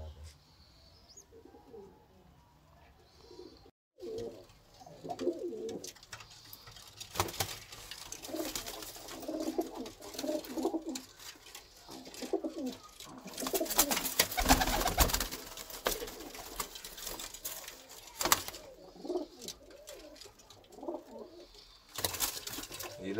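Pigeons, including a red hen pigeon and a shikra-type cock, coo softly in a rooftop loft during hot weather, with scattered low coos and chirps beneath nearby talking and background noise.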